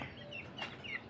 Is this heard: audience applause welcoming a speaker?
no